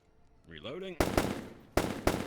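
Bursts of gunfire in a VRChat roleplay game, two close, loud volleys of rapid shots, each with a sharp attack, coming right after a short stretch of voice.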